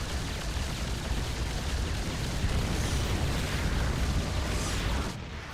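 A nuke in StarCraft detonates on Terran missile turrets, a dense, roaring blast that rumbles without break for about five seconds before cutting off abruptly.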